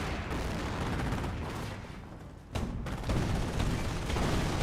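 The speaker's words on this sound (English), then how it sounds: "I heard some sort of landmine detonation" A landmine detonates during a Company of Heroes battle, a sudden blast that breaks through a thick, rumbling wash of gunfire and artillery. The loud, dense combat noise carries on around it.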